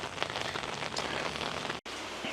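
A steady rain shower on Tioman Island hisses close by, dense drops pattering on surfaces with a brief break near the end before the downpour continues.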